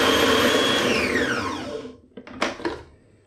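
A food processor whirs at full speed mixing a liver dumpling mixture with tarragon, parsley and eggs, then winds down and stops, followed by a few brief clunks and rattles.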